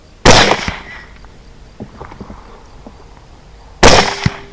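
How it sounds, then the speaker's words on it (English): Two loud rifle shots at hogs during a night hunt, Barnes TTSX 100 grain bullets followed by Hornady SST 123 grain factory ammunition, sharp blasts about three and a half seconds apart with quiet night ambience between. "I believe that is the same hog I've shot twice"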